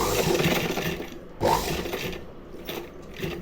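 A sewing machine stitching a hook-and-eye closure gives short mechanical whirring bursts with ratcheting clicks, pausing briefly between runs of stitches, close and moderately loud.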